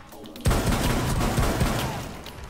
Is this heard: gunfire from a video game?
yes